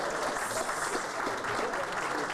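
Audience applause greets a choral group at an alumni roast, a continuous wash of clapping from a crowd heard at moderate distance.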